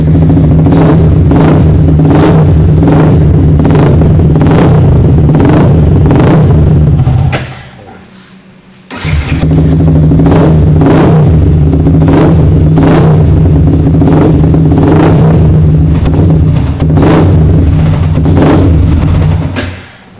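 A Yamaha R15 motorcycle with a fault (battery drain, MIL light on, 18-volt overvoltage charging) runs close by as the throttle is opened. The engine note is steady and rough, cuts out for about a second partway through, then picks up and runs on.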